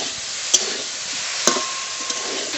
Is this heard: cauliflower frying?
yes